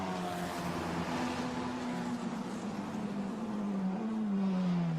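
Formula Renault Eurocup race car accelerating hard on a semi-wet Spa-Francorchamps circuit, a steady loud high-revving engine drone with the pitch gliding and shifting throughout.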